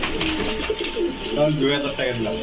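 Large pigeons at a pigeon market coo repeatedly in low, rolling warbles, close and fairly loud, overlapping one another with people's voices faintly mixed in.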